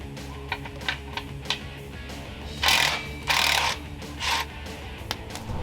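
A hand ratchet backs out a 16 mm bolt on a Jeep Wrangler JL sway bar skid plate, giving a series of close, light clicking strokes mixed with several louder rasping scrapes of metal.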